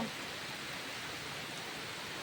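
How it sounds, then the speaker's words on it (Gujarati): Stormy monsoon rain pours with wind through trees, a dense, steady hiss of downpour that holds evenly throughout without any voices. "આજે તોફાની વરસાદ આવી ગયો છે"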